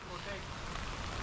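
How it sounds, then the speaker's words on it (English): Heavy rain falling at a house under construction in Kenya, a dense, steady hiss of drops on surfaces, close and continuous. "Look at rain is too much today in this place."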